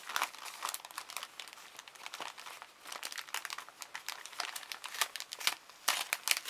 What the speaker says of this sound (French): Voilà, j'arrache tout